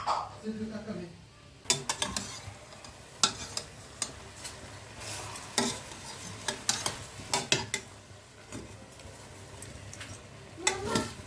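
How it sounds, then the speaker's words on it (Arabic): Chicken and onion sizzle softly with spices in a pot, a faint, close frying hiss punctuated by stirring clinks and scrapes of a utensil against the pot at irregular intervals. "ضروري نخليو هذاك الدجاج مع بصيله يتشحروا شويه مع العطريه اللي درت"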